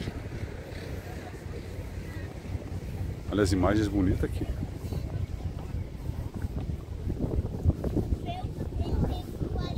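Wind buffeting the microphone at the Molhe da Barra seaside pier in Itajaí, a steady, loud low rumble throughout, with someone talking over it and a brief whistling tone in the middle.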